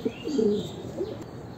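A young racing pigeon gives a short, soft throaty coo up close, quiet and alone.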